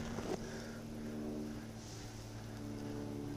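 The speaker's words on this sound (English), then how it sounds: "This thing is freaking loud without the mufflers on it." Kawasaki engine running without mufflers during fuel pump repair, a steady loud low droning idle with strong harmonic hum throughout, close to the microphone, with a brief knock near the start and no talking.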